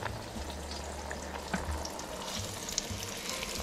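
Cheese fries in a pan with a steady soft sizzle, and a few small clicks and scrapes come as it is moved around.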